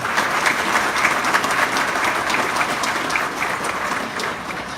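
Sustained applause from a crowd, dense steady clapping throughout with no voices on top, easing slightly toward the end.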